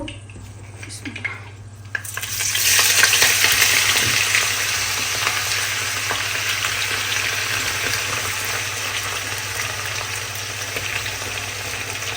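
Onions drop into a hot pan with oil and fry loudly, a sudden burst of hissing sizzle that stays steady and close, with a low hum underneath.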